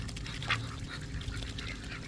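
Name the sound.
duck quacking while being fed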